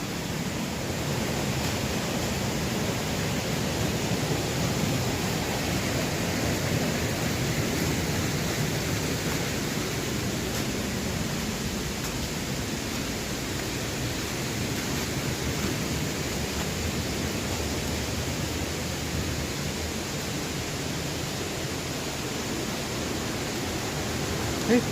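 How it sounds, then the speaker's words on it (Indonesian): Steady, dense roar of the third waterfall at La Cholla in Maros, a continuous rushing wash of falling water that holds an even loudness throughout with no break. "Ini dia air terjun ketiga La Cholla"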